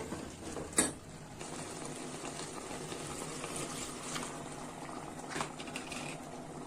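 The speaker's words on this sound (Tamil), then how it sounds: "நான் இப்போ இதுக்கு வந்து ரெண்டு கப்பு தண்ணி சேர்த்த போகிறேன்" Steady rushing of two cups of water poured into a pot of mochai and mutton keema kuzhambu, continuous and moderately loud, with a faint clink near the start.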